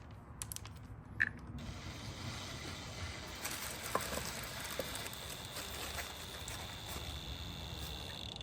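A ratchet tool runs down bolts on a fire-damaged Ford Focus with a steady mechanical whirring and ratcheting, under a few sharp clicks and clanks, moderately close.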